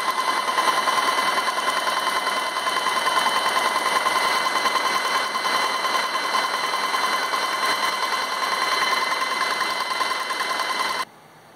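A Graco Magnum X5 airless paint sprayer runs steadily without building pressure, giving a continuous, loud mechanical drone with a rapid pulsing rhythm that cuts off abruptly near the end.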